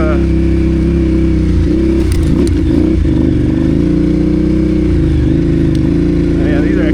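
An adventure motorcycle engine drones loudly and steadily while the bike rides through packed snow, with a brief clattery rise in revs partway through.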